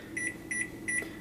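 Three evenly spaced electronic beeps come from a microwave oven as its timer is set, clear and close, with a low room hum underneath and no talking.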